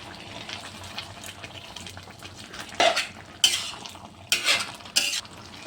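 A spoon stirs and scrapes through lau shak curry in a metal cooking pot as dissolved rice flour is mixed in, the scraping clinks starting faint and then coming in several louder bursts near the end, with no talk.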